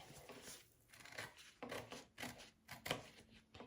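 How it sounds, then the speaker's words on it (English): Scissors snip through a fabric zipper pocket in short, quiet, close-up bursts of rasping cuts, roughly six or seven strokes spaced unevenly with brief pauses between them. "We're going to cut this zipper pocket even with our piece first"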